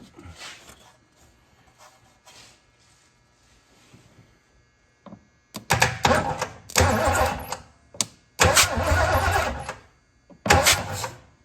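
A Lincoln V8 with its distributor pulled is cranked over by the starter in short repeated bursts, loud and close, with quiet pauses between them and a few people talking nearby.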